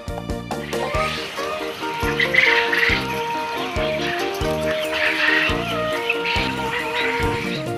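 Quail on a farm chirp loudly and continuously, a dense chorus of shrill calls close by, with a low rhythmic tonal backing running underneath.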